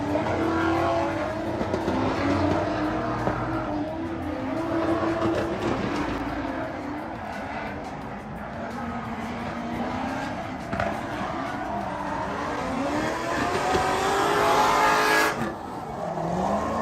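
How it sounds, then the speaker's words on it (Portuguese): Race car from a Subaru BRZ project driving laps on a track to warm its tires, engine note rising and falling continuously with sweeping pitch changes as it passes, loud and steady throughout with faint voices in the background. "Aqui tem uns vídeos de passada, de umas passadas minhas aqui, aquecendo o pneu."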